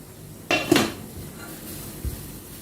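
An idli plate is lifted out of a steamer with a sharp metallic clatter and clink of steel, then one duller knock as it is set aside in a quiet kitchen.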